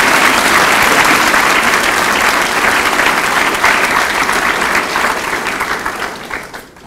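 An auditorium audience applauds loudly to welcome speaker Rebecca Vallas at a college orientation address, steady dense clapping that holds for several seconds before thinning out at the end.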